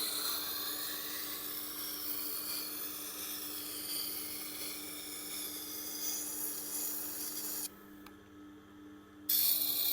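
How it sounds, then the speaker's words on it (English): A knife bolster grinds against the wheel of a Tormek sharpener in a steady, continuous whir and rasp, cutting out briefly near the end before resuming. "Now I've got a fair bit of grinding to do here"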